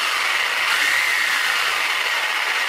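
A Dewalt corded variable-speed reciprocating saw runs steadily with a bright, dense motor whine and rattling blade chatter, holding a fairly even speed throughout at close range with no talk.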